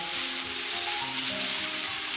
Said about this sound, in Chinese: 下切好的姜丝和葱白，开小火给它煸炒